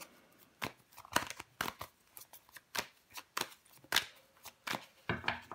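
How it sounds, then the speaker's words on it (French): Tarot cards are laid out and handled in a series of quick, crisp snaps, slides and flicks, some clustered in pairs, close and fairly quiet with no voice. "Nous allons recouvrir des cartes."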